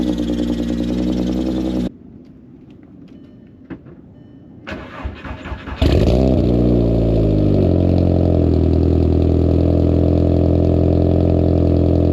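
A loud Volkswagen Mk4 R32 engine with a cold air intake runs, cuts out, then cranks and fires back up with a roar before settling into a steady, heavy idle.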